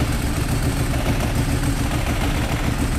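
Ducati Streetfighter engine idling with its dry clutch pulled in, a loud close rumble with a busy rattling clatter running continuously.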